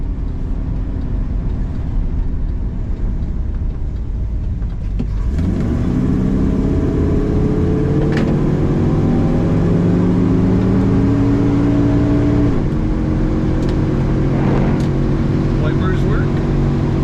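A 1969 Chevrolet Chevelle SS tribute: after a low background hum, the engine catches partway through and settles into a steady, rumbling idle with wavering tones. A voice talks over the running motor.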